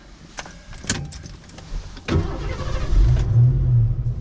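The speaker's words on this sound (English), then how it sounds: "So that 302 just fires right up, the 5-liter high output V8." A 1986 Mercury Capri ASC McLaren's 5-liter high-output 302 V8 cranks briefly and fires, then settles into a deep, rumbling idle that grows steadily louder and fuller.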